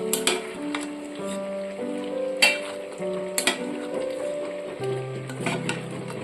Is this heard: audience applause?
no